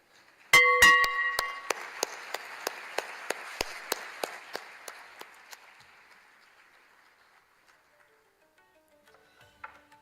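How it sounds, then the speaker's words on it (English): A gong rings out at the Bombay Stock Exchange's 150-year celebration, struck several times in a bright, repeated rhythm before its ringing decays, while applause swells from the audience and gradually fades to scattered claps. "maybe we can help them with some applause when the gong rings to commemorate this 150-year celebrations"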